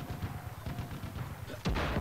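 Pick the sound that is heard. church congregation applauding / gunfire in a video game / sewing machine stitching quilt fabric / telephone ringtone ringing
gunfire in a video game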